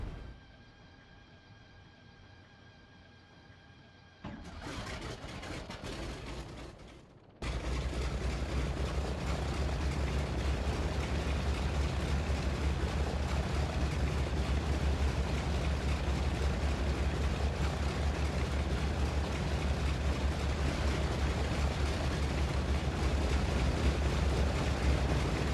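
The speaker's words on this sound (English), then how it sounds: "So now both engines are going." A C-47 Skytrain's piston engines in a flight simulator start up, a short whine and clatter giving way to a steady, loud, droning propeller roar that holds constant for the rest of the stretch.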